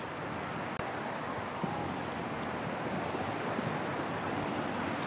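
Water rushing at Balanak Dam, a steady broadband roar of flow with a windy texture, constant and moderately distant, no voices, with one sharp knock early on.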